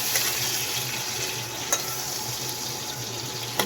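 Boiled potatoes going into a pan of cooking Kabuli chickpeas, a steady close sizzle with a few faint clicks and stirring taps.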